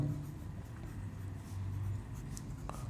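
Blue marker gliding across exam paper in steady strokes, a soft continuous scratchy rub close to the mic with no talking.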